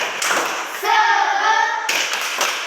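A class of children performs the 'tepuk semangat' clapping chant, with a sustained voiced chant between sharp bursts of claps at the start and end, loud and close.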